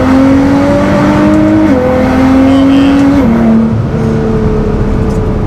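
A Nissan GT-R taking a high-speed turn and braking hard with ABS engaged, its engine a loud, steady drone that shifts pitch in steps as it slows, close and continuous with no voices.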